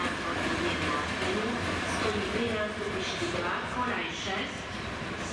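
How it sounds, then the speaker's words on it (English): An old Class 720 diesel locomotive runs round its train at the station in Zvolen, Slovakia, its steady engine rumble and rail noise carrying continuously with voices talking over it. "Our locomotive ran round our train at Zvolen,"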